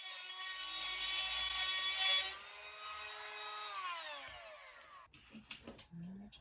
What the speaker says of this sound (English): I'm using a grinding bit, and it's grinding the back of that bolt